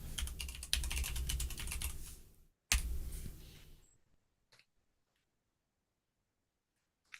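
Computer keyboard typing in quick bursts of clicks, steady for about four seconds with a short break, then tapering to a few isolated taps before silence.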